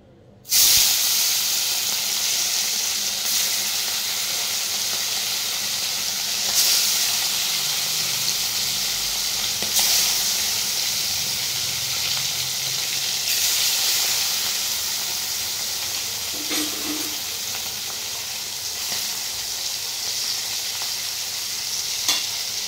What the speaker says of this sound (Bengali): চলো মাছগুলো ভাজা হতে থাক, গ্যাস কমিয়ে দিই।